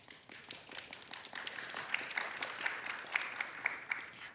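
Audience applause at a tech conference session after a live coding demo of VS Code extensions with GitHub Copilot, a fairly faint patter of many hands clapping that builds and continues steadily.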